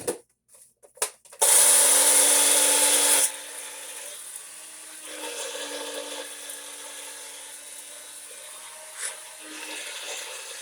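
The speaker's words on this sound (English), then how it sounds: "you could do it in a grinder if you want to, but I do it in my magic blender" A blender roars loudly in a short, harsh burst of about two seconds, grinding dried rosemary sharply, then drops to quieter rattling and handling sounds.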